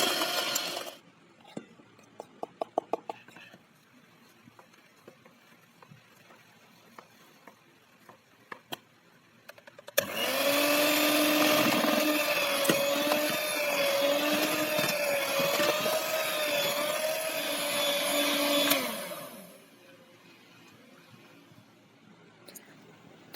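An electric mixer whirs loudly and steadily for about nine seconds, beating eggs with flour into putu ayu cake batter, with faint kitchen clatter and tapping before and after.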